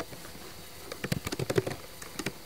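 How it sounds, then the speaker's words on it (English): Fingers type on a computer keyboard in short, uneven bursts of close, crisp key clicks, with no one talking. "I'm going to blow things up a bit so I can see what I'm typing here"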